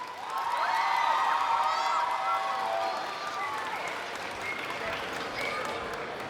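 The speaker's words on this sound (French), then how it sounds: "Je vous demande d'accueillir avec un tonnerre d'applaudissements Po de Kung Fu Panda par CL Cosplay." Crowd at a Saturday cosplay show at Mangagen 2026 breaks into loud applause, cheering and whoops as a Kung Fu Panda Po cosplayer is welcomed on stage, then the clapping thins to a steadier, slightly quieter ovation.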